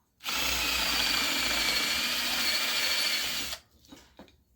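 A power drill with a quarter-inch bit bores through a workpiece, whining loudly and steadily for over three seconds before stopping abruptly, followed by faint rattling handling sounds.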